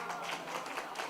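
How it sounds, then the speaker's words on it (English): Steady audience applause fills a room at a sustainability presentation, a dense wash of many hands clapping at moderate distance with no pauses. "can you please give a big round of applause to,"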